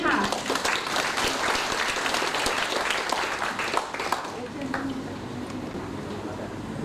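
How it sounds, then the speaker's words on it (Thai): A crowd at a formal university welcoming ceremony claps for the rector, a dense wash of applause that softens in the later seconds, with voices mixed in. "ขอเสียงปรบมือให้ท่านอธิการด้วย"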